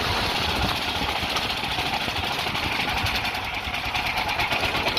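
A Honda GX390 generator engine powers a dune buggy running in first gear, giving a loud, steady, rapid mechanical chugging close by without talk.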